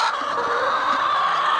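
Hens in a large egg-laying flock of nearly five hundred birds cluck in winter, a close, continuous chorus of overlapping clucks and squawks with no speech.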